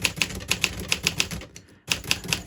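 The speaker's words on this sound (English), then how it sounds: "the typing really sounds and really feels strong and solid" Typing on a Smith Corona Silent Super manual typewriter: a steady run of crisp, solid keystrokes close up, with a brief pause before the rhythmic clacking resumes.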